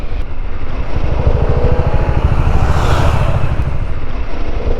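A Harley-Davidson Pan America adventure motorcycle pulls hard under acceleration, its loud, steady engine roar filling the whole stretch and swelling slightly midway.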